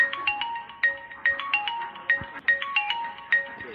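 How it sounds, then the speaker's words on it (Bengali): A phone ringtone for an incoming call plays as a repeating electronic melody of bright tonal beeps, steady and fairly loud, with no talk over it. "এখন আবার কে ফোন করলো?"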